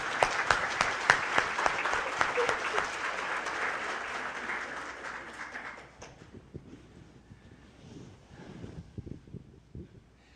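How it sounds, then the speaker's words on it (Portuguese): Audience applause at a spiritist congress in Brasília fills a hall loudly for about six seconds, then thins out into scattered, fading claps and room noise. "Se vocês gostaram, vamos bater palmas para Emmanuel."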